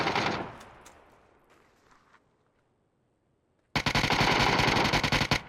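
Gunfire in a PUBG custom military-operation match: a loud burst opens, decays into a faint tail and near silence, then a dense rapid volley of close shots crashes in and runs to the end.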